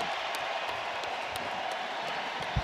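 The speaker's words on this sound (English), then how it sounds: "Getting a standing ovation here." A 49ers stadium crowd gives JJ Watt a standing ovation, a steady, dense roar of cheering and applause that holds at an even level throughout.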